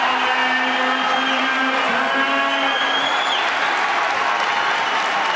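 Crowd clapping at a college wrestling dual meet in an arena between Virginia Tech and NC State, loud, dense, sustained applause with some cheering and a tonal hum underneath.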